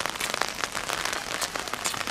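Heavy rain pours steadily in the countryside, a dense continuous hiss of drops drumming on surfaces, close and unbroken throughout with no voices.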